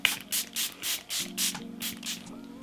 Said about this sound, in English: I'm gonna go in with my Charlotte Tilbury Airbrush Flawless Setting Spray.